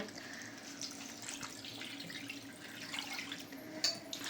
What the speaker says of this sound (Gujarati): હવે મેં પાણી એડ કરું છું જોઈ શકો છો